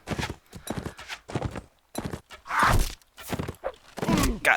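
A horse in the medieval combat game Mount and Blade Warband clip-clops in a quick, uneven rhythm of hoof thuds, close and clear, mixed with brief combat knocks.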